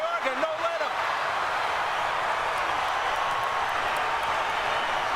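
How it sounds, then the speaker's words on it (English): Boxing arena crowd at the Cotto vs Mayorga fight roaring in a steady, dense wall of noise, with a voice briefly audible at the start. "Crowd going wild."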